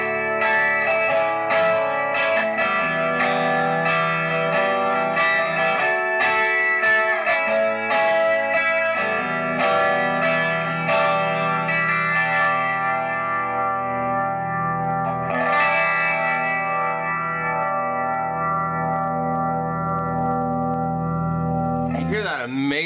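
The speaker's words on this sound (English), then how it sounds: "Let's turn on the chorus and the delay and the compressor and hear what kind of difference this makes." Clean electric guitar through chorus, delay and a One Control Lemon Yellow compressor, sustained chords ringing out with shimmering modulation and echo tails, loud and steady throughout.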